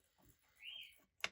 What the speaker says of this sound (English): I hope you guys can't hear the bird